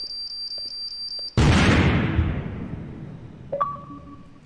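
A bomb goes off in the video game Prison Loop with one sudden loud broadband blast after soft repeating electronic beeps, then a long decaying rumble and a short closing tone.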